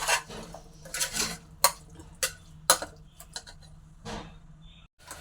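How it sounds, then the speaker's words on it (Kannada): Vegetables for rice bath being stirred in a pan on the stove, with a metal spoon scraping and clinking against the pan in irregular close bursts. "ಚೆನ್ನಾಗಿ ಮಿಕ್ಸ್ ಮಾಡ್ಕೊಳ್ಳಿ."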